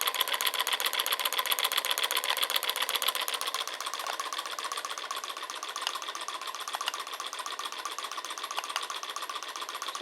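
A small piston-powered magnetic pulse motor runs at roughly 450 to 460 RPM, giving a close, fast, even mechanical buzz and chatter that stays steady, slightly louder at first, with no talk.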